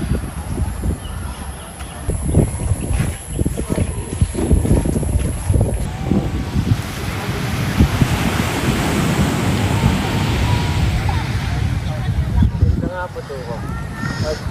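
Rough, steady roar of seaside surf and wind buffeting at close range on the shore, with a voice speaking over it throughout.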